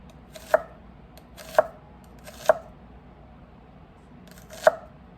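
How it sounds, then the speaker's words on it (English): Four sharp, evenly spaced chops ring out as a knife slices shallots on a cutting board, each a crisp close knock against the board with quiet pauses between. "I'm just going to slice it just like I did my onions, like that."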